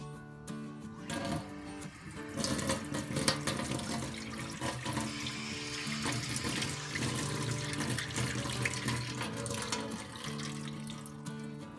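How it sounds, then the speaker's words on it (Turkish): Water runs steadily from a fixed outdoor garden tap supplied by a 12-volt booster pump, a continuous close rushing flow with a constant mechanical hum underneath and no talking. "Bu evin tek bu sabit çeşme."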